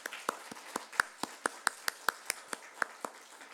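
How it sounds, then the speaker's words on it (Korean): Church congregation at an evening prayer meeting clapping in welcome, sharp claps in a steady even rhythm of about four per second, crisp and close, with no voices. "우리의 성령이 환영하는 박수."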